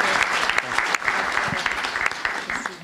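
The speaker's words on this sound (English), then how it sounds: "Can we give them a round of applause?" Steady round of applause from an audience at a legislative listening session held in a school, dense clapping filling the room with a few louder individual claps and faint voices underneath.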